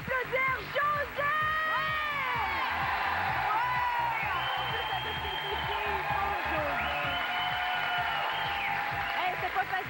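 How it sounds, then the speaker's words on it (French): A studio audience at a reality-show finale cheers and whoops for a contestant, with steady applause and overlapping voices talking and shouting throughout the clip. "Veuillez applaudir José!"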